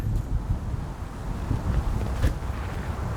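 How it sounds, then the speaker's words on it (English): Strong wind roars steadily across the microphone outdoors, a loud, constant rumble with gusty swells throughout. "There's a strong wind."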